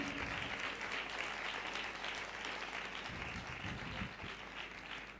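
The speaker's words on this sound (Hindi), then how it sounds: "जोर से ताली दो" A congregation applauds at an energetic church service. The dense, sustained clapping continues steadily throughout with a roomy, full sound and no break.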